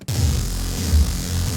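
A low, buzzing Reese bass synth drone, raw and unprocessed, sustained with a slight throbbing wobble, alone.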